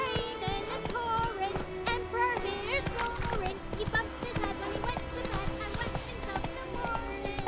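Hooves clip-clop at a trot through a busy town street in The Witcher 3, a steady rhythmic patter under constant chatter from townsfolk and children and layered background music.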